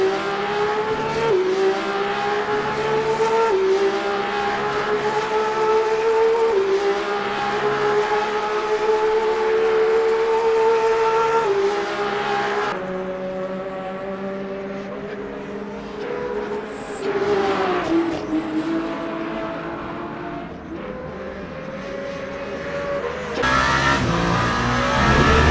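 A Le Mans hypercar in Le Mans Ultimate sweeps through the 90-degree Arnage right-hander on soft tires, its loud engine tone falling under braking, then climbing again through the gears as it accelerates away, with no talk.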